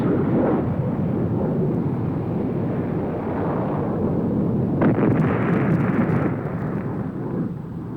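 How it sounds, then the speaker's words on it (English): A Maverick missile launches and strikes a laser-designated target: a loud, sustained rumbling roar fills the whole stretch, with a sharper burst near the middle and crackling that slowly fades toward the end. "Here's a Maverick launch against a GLDD-designated target."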